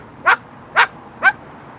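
A Moluccan cockatoo imitates a dog, giving three short, loud, evenly spaced barks close by with no talking.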